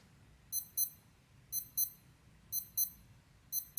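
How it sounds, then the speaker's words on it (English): A Skmei 1456 quartz watch sounds its alarm: faint, thin double beeps repeating about once per second, four pairs in quick regular rhythm over a quiet background. "you can actually test the alarm"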